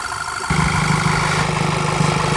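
Stock-intake Volkswagen Golf GTI Mark V with the 2.0T engine idling steadily, a low, even hum that starts abruptly and holds close and moderately loud, with no talk.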